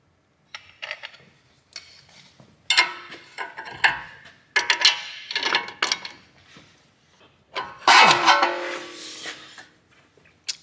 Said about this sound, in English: 22mm spanner and socket for these